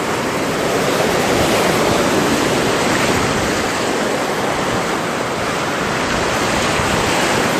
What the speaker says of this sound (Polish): abyście usłyszeli jak głośno szumią fale.